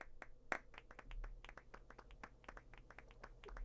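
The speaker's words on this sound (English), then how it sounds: "They're all clapping for me, not the rest of you freaks." Several characters clapping in Final Fantasy 8, a quiet run of separate, fairly quick claps from the game's sound effects that carries on throughout, with one sharper clap near the start.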